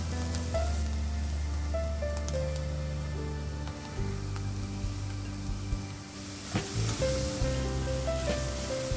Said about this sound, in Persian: هویج رو هم همراه پیاز یکم تفت میدم